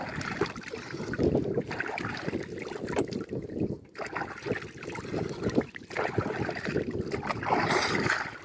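A boat moves across monsoon floodwater in a wetland, with steady broadband water and wind noise throughout and a short dip partway through.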